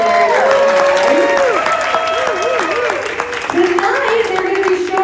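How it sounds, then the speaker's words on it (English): Audience applause at a dance floor championship competition, continuous clapping under music with sustained melodic tones, and a voice talking over part of it. "So give them a round of applause."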